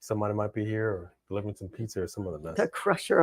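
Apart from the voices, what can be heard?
No everyday noises stand out.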